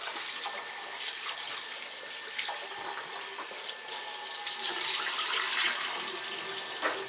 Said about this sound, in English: Wash your rice, get the white flour out, and then just leave it.